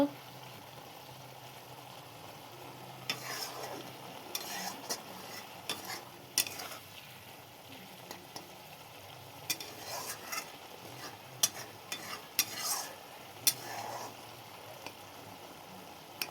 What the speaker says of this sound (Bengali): দেখো আমি শাকটা রান্না করে নিই